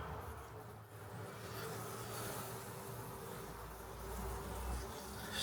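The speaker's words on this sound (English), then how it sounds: "Now the bees can't see anything that's going on, so they're going investigating" Honey bees buzz in a steady, low, droning hum inside an opened hive at night while queen cells are grafted, the sound fairly faint and continuous throughout.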